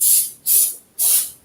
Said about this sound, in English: It's spray paint